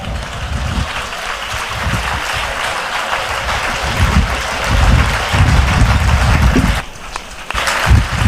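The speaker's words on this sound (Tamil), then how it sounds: "அப்படி விரும்புறவங்க எல்லாம் கைதட்டி கர்த்தரை ஸ்தோத்திரம் பண்ணுங்க" A Tamil church congregation claps in praise during a service. The hand clapping is loud and uneven, with heavy, thumping bursts that swell and dip and briefly drop away near the end.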